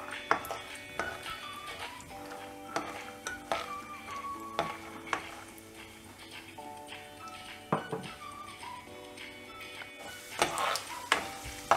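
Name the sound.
peanuts frying in oil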